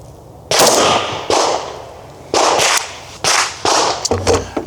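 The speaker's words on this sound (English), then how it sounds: "Let me run a couple rounds through it." An AR-15 rifle fired at an outdoor shooting range: five or six loud, sharp reports at uneven intervals, each trailing off in a long echo, heard up close with no talking.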